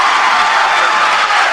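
A high school basketball crowd at Gate City roars and applauds after a made three-pointer, a loud, steady wash of cheering and clapping with no distinct voices.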